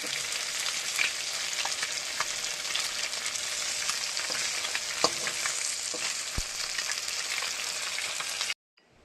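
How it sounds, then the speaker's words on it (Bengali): Fish fries in hot oil in a pan, a steady close sizzle with occasional pops and crackles. It runs unbroken until it cuts off abruptly near the end. "কত সুন্দর ভাজা হচ্ছে দেখুন"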